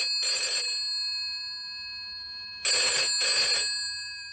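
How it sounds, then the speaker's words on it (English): An old-style telephone bell rings at a village post office in two bursts, the second a double ring, loud and close with no talk over it. "My phone's working anyway, said Mrs. Goggins."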